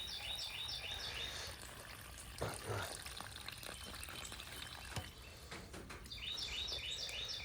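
Water gushes from the drain plug of a Hoover wet/dry vac tank, a steady broadband pour with a brief louder splash partway, while faint bird chirps carry in the background.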